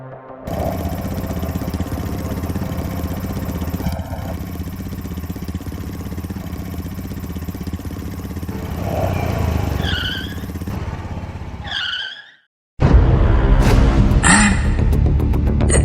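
An animated motorcycle engine runs at a steady mid-pitched drone, then rises with squealing revs. A short silence follows, then the engine returns, louder and rougher, with faint squeaks over it.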